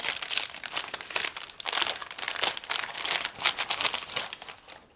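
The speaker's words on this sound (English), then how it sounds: "So just peel the parchment away from the sides of your bread." Parchment paper is peeled away from a freshly baked loaf of whole wheat no-knead Dutch oven bread, giving close, crisp crinkling and crackling in repeated bursts.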